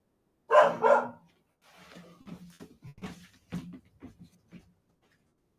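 A dog gives a loud close bark or two at the start, followed by quieter scattered knocks and shuffling sounds.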